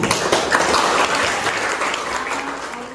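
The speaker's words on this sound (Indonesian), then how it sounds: "Oke, mari kita tepuk tangan." Classroom applause from high school students at the end of a lesson, a dense, fast patter of many hands clapping together close by, steady and gradually easing off.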